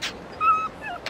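A dog whimpers in Yakuza Kiwami, one thin drawn-out whine, close and fairly clear over a quiet background.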